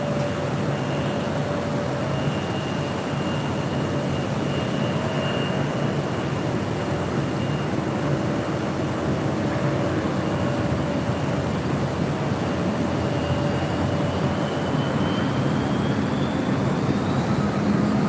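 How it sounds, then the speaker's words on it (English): LATAM Airlines Boeing 787-9 Dreamliner at LAX, flight to Santiago: a steady, moderate jet engine drone with thin tonal whines rising and falling over it, continuous and without speech. "this is Latam Airlines Flight 603 heading to Santiago. 787-9 Dreamliner."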